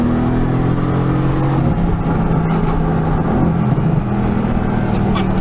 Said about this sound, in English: I let the exhaust open up. You can really hear and the downshifting of the vehicle.